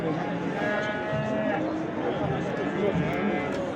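Calves at a busy cattle market in Çorum, Turkey, lowing now and then amid a steady din of livestock and crowd noise, with people talking throughout.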